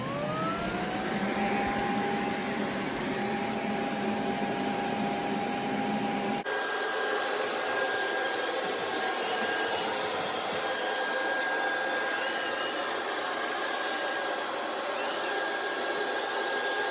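A Bissell IconPet robot vacuum spot-cleans pet hair with a loud, steady motor drone and suction hiss. Partway through, the tone shifts abruptly to a different whine as the vacuum keeps running close by.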